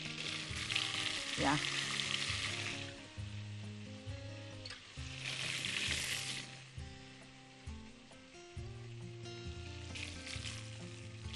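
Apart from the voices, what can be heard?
zucchini frying in oil and butter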